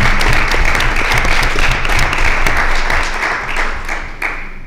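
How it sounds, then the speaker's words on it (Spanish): Loud, dense applause from an audience at a round-table talk on gender violence, steady sustained clapping throughout before tapering slightly near the end. "Un aplauso para ella."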